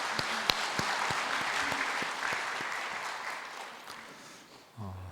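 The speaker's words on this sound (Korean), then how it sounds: "하나님께 영광의 박수 하겠습니다." A church congregation applauds during a Korean Sunday worship service, with many hands clapping and a few sharper individual claps, gradually tapering off before a brief low sound at the end.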